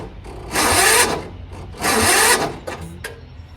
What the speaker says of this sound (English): I'm gonna just crank it. It has a slow crank.